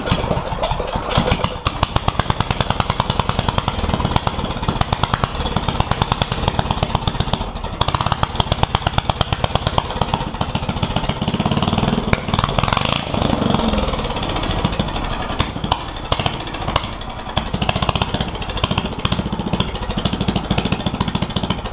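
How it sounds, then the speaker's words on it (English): A brand-new 420 engine on a Yerf Dog go-kart runs for the first time, a loud, close, rapid chattering putter that stays steady throughout with slight revving swells and no talk. "Let's turn it on so you guys can hear it."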